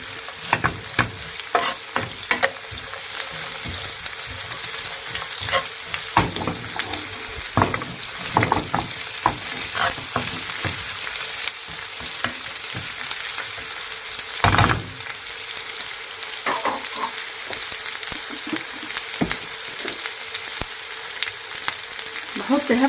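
Onions seasoned with salt and pepper sizzle steadily in a hot pan at home, with repeated scraping and clatter as they are stirred, fairly close and without talk.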